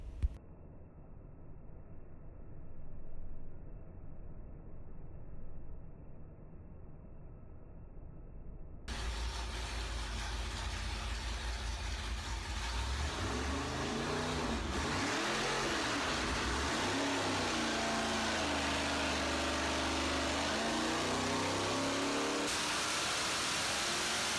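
Procharger-supercharged Cadillac engine running on pump gas with test headers, revving hard and close: a quieter idle-like opening, then a sudden loud jump into sustained high-rpm roar with swelling, wavering pitch.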